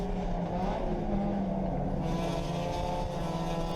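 A race car at full speed at a national-level racing event, its engine a steady, close roar with a slight shift in tone partway through.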